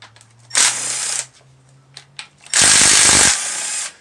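Power tool whirring as 10 mm bolts come off a Subaru WRX/STI engine during a head gasket job, two loud bursts of about a second each with quiet clicks and handling noise between them.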